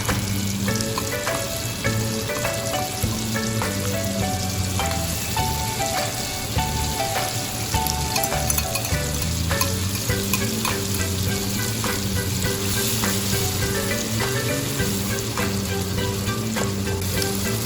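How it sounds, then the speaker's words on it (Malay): Ground chili paste sizzling and frying in hot oil for mackerel fish sambal, a steady dense crackle with stirring throughout, close and fairly loud with no talk. "Masukkan cili kisar sedikit demi sedikit"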